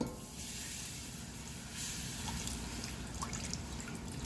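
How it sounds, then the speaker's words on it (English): Warmed milk pours into a flour and butter roux for mac and cheese, a steady soft liquid hiss and trickle running close and continuous, with no talk. "Let's pour in that warmed milk."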